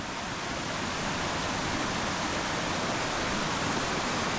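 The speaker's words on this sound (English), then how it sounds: "here's the creek. It's going to be pretty noisy," A wild creek in New Zealand rushes steadily over slippery rocks, a loud, close, unbroken wash of flowing water with no pauses and no voices.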